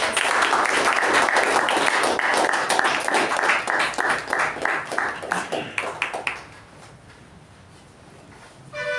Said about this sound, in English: Toastmaster Chetan, with a fantastic round of applause.